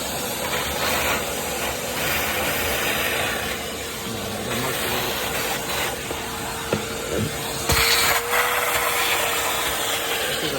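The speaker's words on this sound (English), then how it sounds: "we're gonna vacuum it out" A vacuum hose roars steadily with gurgling, slurping suction as it pulls water out of a car interior, with occasional knocks and scraping against surfaces.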